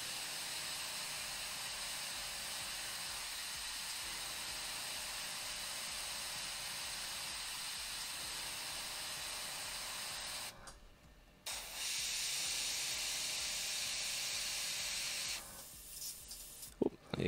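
An airbrush spraying paint gives a soft, steady, airy hiss that runs continuously, pauses briefly about two-thirds through, then resumes before stopping again near the end.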